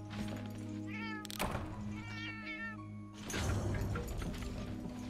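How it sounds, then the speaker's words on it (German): Several cats meow repeatedly in the Monster Hunter Online video game, rising and falling cries in bursts, with a dull thunk partway through and game ambience underneath. "diese Katzen hier, alle miauen rum."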